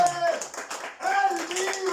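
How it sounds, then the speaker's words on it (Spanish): Worshippers in a church congregation break into applause, a scattered run of hand claps that dips briefly midway, mixed with an overlapping voice and tonal music in the room. "Un aplauso."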